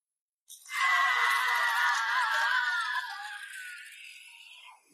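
A person screams in fright at a ghostly face suddenly appearing in a mirror in a horror film: one loud, sustained high-pitched shriek lasting about four seconds, fading toward the end.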